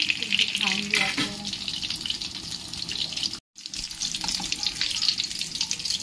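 Potato fritters (aloo gunda) frying in oil, a steady bright crackling sizzle throughout with a brief gap midway, no voices.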